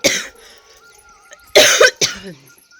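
A sharp cough up close, then after a pause two more harsh coughs in quick succession.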